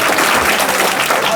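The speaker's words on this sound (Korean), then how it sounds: "박수 한번 치세요." An audience at a political lecture claps loudly together in a brief, dense burst of applause close by.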